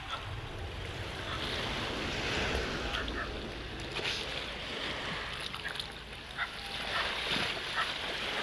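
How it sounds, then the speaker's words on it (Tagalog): Sea waves wash steadily onto an open-sea beach, a continuous broadband surf roar with wind buffeting the microphone throughout. "Good kayo beach dere. Open sea."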